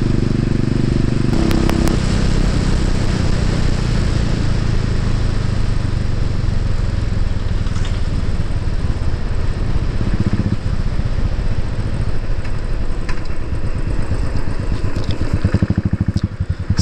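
A motorbike rides a rural road on a road trip from Santiniketan to Durgapur, its engine droning loud and steady throughout with heavy wind rumble and no break.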